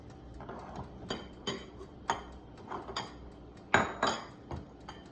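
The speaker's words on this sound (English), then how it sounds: "So I'm going to mix this all together, all my ingredients." A utensil clinks and scrapes against a bowl in quick irregular taps while breakfast stuffed bell pepper filling is mixed by hand, close and fairly quiet with no talking.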